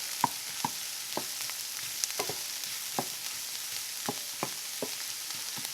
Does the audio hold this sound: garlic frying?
yes